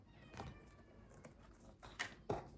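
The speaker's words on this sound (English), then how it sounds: "Now my cat is losing it." A house cat meows a few times at low volume in a quiet indoor room, short scattered calls with no talking.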